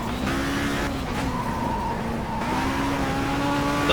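Race car engine inside the cockpit of an older racing video game, a steady droning whine that holds nearly constant pitch with slight rises and dips, loud and continuous, with faint tyre squeal.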